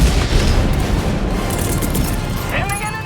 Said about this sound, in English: We lob 2 500 kilo bombs onto number 12